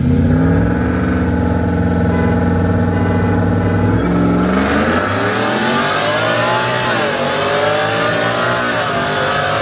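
Ford F150 pickup trucks in a side-by-side drag run, one engine revving hard and climbing through its gears with rising and falling pitch, loud and close throughout, with wind roar building in the second half and no voices.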